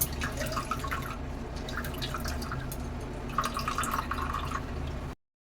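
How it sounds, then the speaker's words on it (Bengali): Water drips and trickles from freshly made chhena being squeezed out by hand for rasmalai, a close, steady patter of drops and small splashes that ends abruptly. "এবারে জলটা আমি চিপে নেব"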